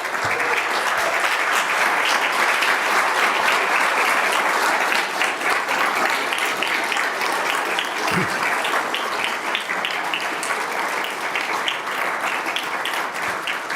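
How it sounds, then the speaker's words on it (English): Sustained applause from a standing audience at a county managers' excellence awards ceremony, a steady dense wash of many hands clapping that holds loud and even for the whole stretch without talk. "a round of applause again."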